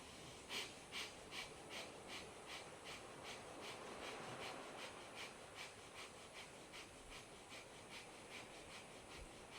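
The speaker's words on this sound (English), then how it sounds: "hands on your knees and pumping through the nose" Rapid, rhythmic breaths are pumped forcefully through the nose during a breathing exercise done with hands on the knees, a quick even series of sharp huffs that is soft and near, with no talking.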